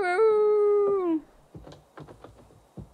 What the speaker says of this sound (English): And now I'm hearing some animals howling about.